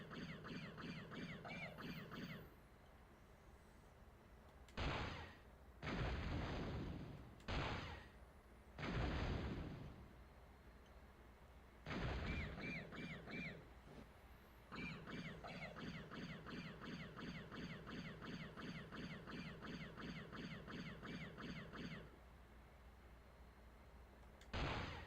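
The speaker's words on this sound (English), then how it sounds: "those rockets actually hit me" Rockets explode in a video game as a string of about six heavy, booming blasts, some in quick succession, between stretches of repetitive pulsing game noise.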